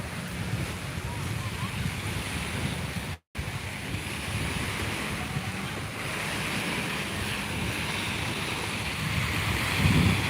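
Ocean waves wash onto a beach in a steady, full roar with wind buffeting the microphone, dropping out for a split second before the surf continues, slightly louder near the end.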